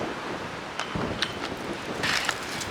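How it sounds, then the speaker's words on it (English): Strong gusting wind at an outdoor skate session, a steady broadband roar that rises in bursts and buffets throughout, loud and close with no voices. "The wind gets in your head because it's unpredictable."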